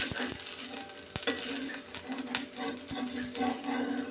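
Vari rice thalipeeth frying in a pan with a steady close sizzle and crackle, broken by a few sharp taps and scrapes, with no talking.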